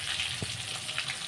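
Fish frying in hot oil, a soft continuous sizzle with faint bubbling crackle, close and quiet, no voices.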